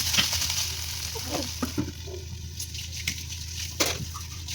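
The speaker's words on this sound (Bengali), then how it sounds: "থোড়গুলোকে হাতার সাহায্যে ভালো করে চেপে চেপে দিতে হবে" Banana stem frying in a pan while being pressed down with a ladle, a steady close sizzle under soft scraping and a few dull presses of the ladle.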